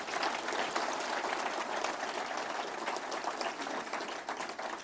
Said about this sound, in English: Another round of applause for the Premier,